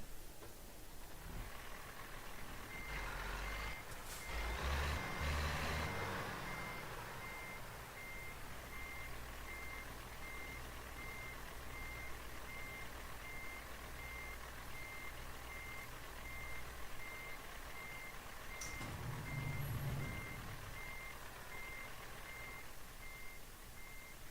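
Heavy truck in American Truck Simulator backing up, its reversing alarm beeping steadily and evenly over a constant engine drone and idling rumble, with a brief louder mechanical burst early on and a soft thump near the end.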